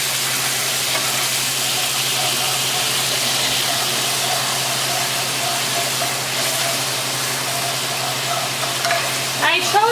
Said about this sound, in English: you're going to actually deglaze the pan with a little bit of sparkling apple cider